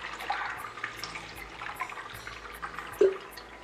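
Cold water is poured over freshly boiled penne pasta, a soft continuous splashing trickle with a brief louder splash near the end, fairly faint and close.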